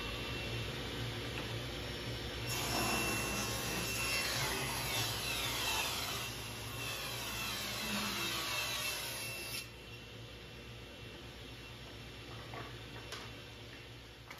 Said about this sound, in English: Got the dust collection on, now the table saw.